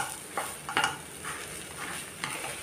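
A spatula scrapes and turns a stir-fry of drumstick flowers and country chicken egg in a pan. There are a few soft scraping strokes over a faint, steady sizzle, and no voices.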